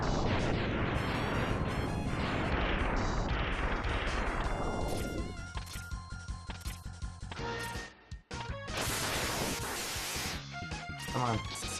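Missiles exploding in a late-night video game session, a dense run of booming blasts and crashing impacts that fade after a few seconds, then more bursts of loud chaotic battle noise with voices talking over it.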